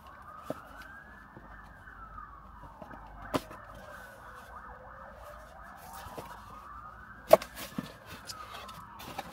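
A police car siren wails in slow rising and falling sweeps, faint and distant, with a few sharp nearby knocks over it.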